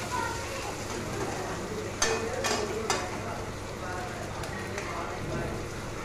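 Onions frying in a pan for a tomato-onion chutney with green chili, a soft steady sizzle with a few brief scraping stirs, under someone speaking Hindi.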